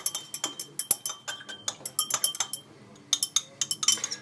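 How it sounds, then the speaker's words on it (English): A glass rod stirring sodium hydrogen carbonate solution in laboratory glassware gives a quick, irregular series of bright clinks and taps, close and clear, with a brief pause midway and no talk. "Take a glass rod and stir until the sodium hydrogen carbonate dissolves"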